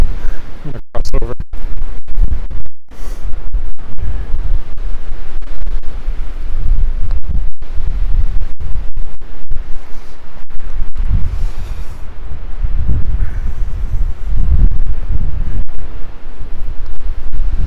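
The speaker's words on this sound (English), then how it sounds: "Very windy day." Strong wind gusts buffet the microphone while walking through downtown Regina on a cold, icy day, with loud low rumbling bursts and sharp crackling dropouts rising and falling throughout.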